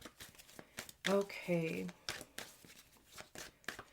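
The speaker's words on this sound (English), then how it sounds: "So a couple more shuffles here for Aries." A deck of tarot cards being shuffled by hand in a few quick papery riffles and flicks, close and fairly quiet, with someone speaking briefly between the shuffles.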